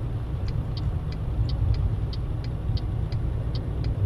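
A truck rolling along a road in Euro Truck Simulator 2, a steady low engine rumble with a faint periodic ticking above it, constant and alone without talk.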